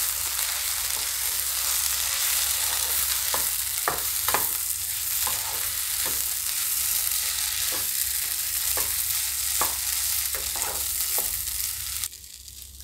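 Farali handvo batter cooks in a hot pan with a steady close sizzle and occasional stirring scrapes and taps, and the sizzle drops away abruptly near the end.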